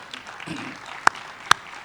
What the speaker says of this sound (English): Let's clap for our panelists for...